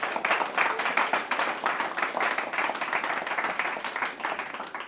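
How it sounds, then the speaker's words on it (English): An audience at the Green Growth Kupu Corps launch in Saipan gives a sustained round of applause, continuous and fairly distant, with many hands clapping at a steady level. "Let's give them a big round of applause."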